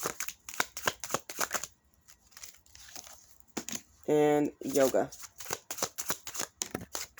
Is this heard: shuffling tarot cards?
yes